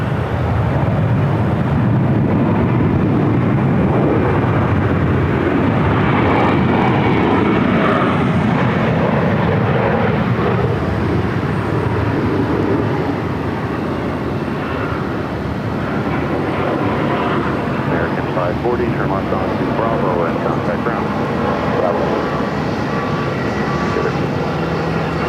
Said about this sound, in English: This is American Airlines Flight 540 coming in from Spokane on an Airbus A320.